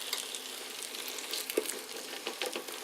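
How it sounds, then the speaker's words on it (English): Food sizzling in a deep pan, a quiet, even frying hiss with small pops and crackles, steady and close with no voices. "You're going to let that saute a little bit."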